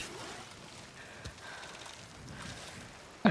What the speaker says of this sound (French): La pluie qu'on n'a pas envie de voir.